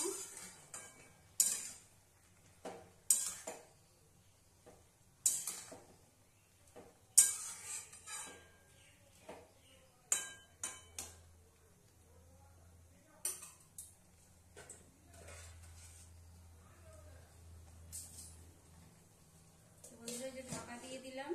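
Bottle gourd greens, eggplant and potato being stirred in a pan, a series of sharp metal spoon scrapes and clinks at intervals, with a soft low hum in the middle and a voice talking between strokes.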